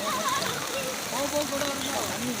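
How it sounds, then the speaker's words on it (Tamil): Strong current of floodwater after heavy rain rushes and gurgles steadily up close, with voices talking over the flow. "தண்ணி இழுப்பு இருக்கு பத்தியா இங்கே"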